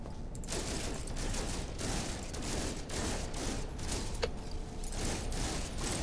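A Boltcaster multitool weapon in No Man's Sky fires in rapid, nearly continuous bursts, making a steady stream of quiet shots with a brief pause and a sharp metallic click partway through.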